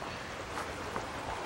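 A small creek swollen by recent rain flows through woods along an abandoned hydro road in Ontario, a faint, continuous watery wash with no talking.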